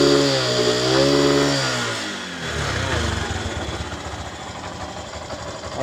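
A Yamaha YTX 125cc motorcycle engine revs up and then settles into a steady, close, rough idle with a buzzy, rapid putter.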